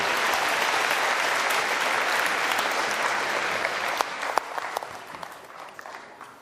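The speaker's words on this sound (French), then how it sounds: "on les applaudit" Applause fills a church celebration after children's baptisms, loud and dense at first, then thinning into scattered individual claps toward the end.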